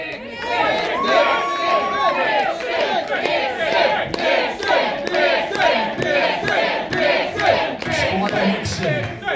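A wrestling crowd at an RCW show chanting "Nixon" in rhythmic repeated bursts, loud and close, a dense mass of voices shouting in unison with cheering underneath.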